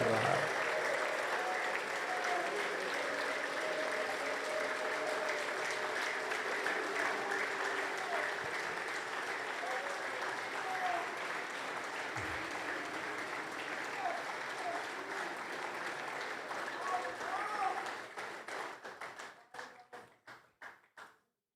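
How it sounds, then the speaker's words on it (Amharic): A church congregation applauds for nearly twenty seconds with sustained clapping and ululation filling a large hall, then the applause thins out and fades away toward the end. "ይህን ለሚያደርገው ጌታ እልልታና ጭብጨባ ስጡት።"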